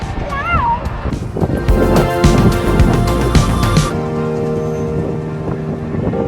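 Wind gusts high up on an outdoor ride in August, roaring broadband and steady throughout, with people talking and shouting over it and a whistle-like tone early on.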